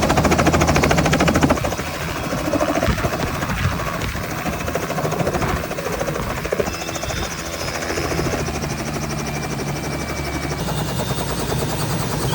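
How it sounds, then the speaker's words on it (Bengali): A helicopter arrives and lands in Tangail town at a wedding, its loud, continuous rotor thudding and engine whine holding close and steady throughout. "এবং অবশেষে চলে আসে আমাদের সেই কাঙ্ক্ষিত হেলিকপ্টার"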